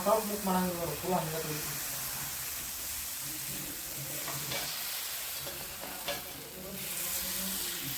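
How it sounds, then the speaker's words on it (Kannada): Dosa batter poured onto a hot pan sizzles steadily with a soft frying hiss, with a few scrapes and clinks of utensils at the start and talking over it at moments. "ನೀವು ನಾರ್ಮಲ್ ಹಂಗೆ ದೋಸೆ ಹಾಕ್ತಿರಲ್ಲ ಹಂಗೆ ಹಾಕೋದ್ರಿ"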